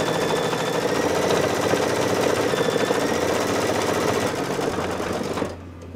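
An embroidery machine stitches a lamb's face in light silver gray thread, a fast, steady mechanical chatter running loud and close for several seconds before stopping near the end.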